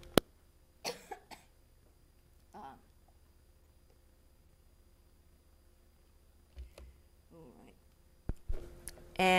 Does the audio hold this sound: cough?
yes